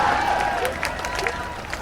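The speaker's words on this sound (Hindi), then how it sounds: "जोरदार तालियां एक बार अपने लिए बजाइए, स्वयं के लिए, खुद के लिए" Applause and cheering from a festival audience at a comedy performance, a dense, steady wash of clapping with crowd noise throughout.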